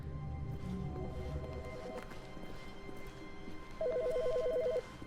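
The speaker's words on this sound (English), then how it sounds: "Phone's ringing." A telephone rings in The Stanley Parable video game, a short electronic trill repeating in two bursts over a low background hum.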